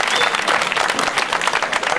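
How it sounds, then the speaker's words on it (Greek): A festival crowd at the 2001 feast of Agios Titos in Kouroutes, Amari, claps loudly and steadily for a performer. The dense, close applause runs throughout with crowd voices mixed in. "Άλλο ένα μεγάλο χειροκρότημα θέλω για έναν καλλιτέχνη εξίσου σημαντικό και μεγάλο"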